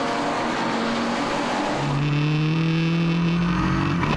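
Race car at Portimao in the Acceleration 2014 series, heard onboard with Bert de Huys: loud, close engine whine rising through the gears with tire noise beneath, continuous with no talk.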